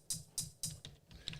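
Crisp hi-hat sample played on an SP 1200 drum machine, a handful of short bright ticks in a quick even pattern, quiet and dry with nothing underneath.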